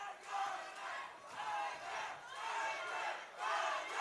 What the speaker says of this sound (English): Crowd chanting Carballo's name here.